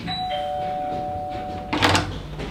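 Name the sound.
doorbell ringing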